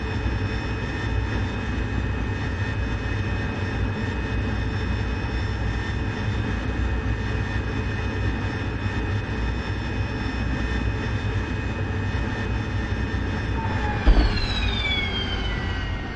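A Harrier jet hovers down onto a carrier deck in the DCS video game, its engine giving a steady, loud whining roar with a brief thump and pitch shift near the end.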